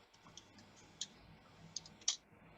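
Calculator keys pressed one by one, a sparse series of faint, light plastic clicks at irregular intervals in a quiet room.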